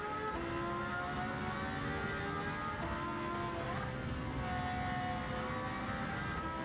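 A Porsche GT race car engine in Gran Turismo 7 howls steadily with layered high tones, continuous and fairly faint, with no talk over it.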